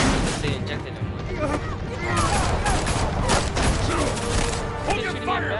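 Dense gunfire in the Batman Telltale Series game, a loud continuous volley of overlapping shots and mechanical clatter lasting several seconds, with voices mixed in.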